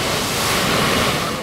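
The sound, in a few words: Atlantic Ocean waves crashing against rocks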